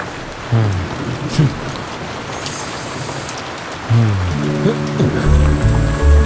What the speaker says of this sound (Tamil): மழை வந்தனால பிஸ்னஸே போயிடுச்சு